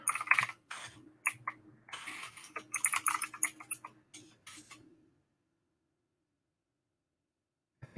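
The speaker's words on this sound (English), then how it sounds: "I'm using the keyboard that is plugged into this PC, which has always been a very clicky, very loud" Rapid, loud clicking keystrokes from a very clicky computer keyboard plugged into a PC, typed in quick bursts for about five seconds, then silence.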